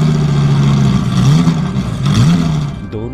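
A motorbike engine revs up and rumbles as it pulls away, loud and close, the pitch rising and falling with the throttle.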